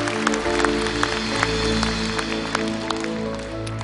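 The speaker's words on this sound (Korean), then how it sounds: "주님께 영광의 박수 올려드립니다." Church congregation clapping in praise after a prayer during a worship service, a steady patter of many hands over a sustained organ or keyboard chord, moderately loud.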